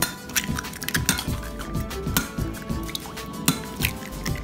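Four eggs going into a bowl of keto pumpkin cheesecake batter: soft wet drips and squishes with light clinks of utensils against the bowl, close and quiet, with no talking.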